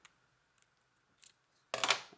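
Scissors cut through sticky paper, a few faint snips followed by one loud close crisp cutting stroke at the end.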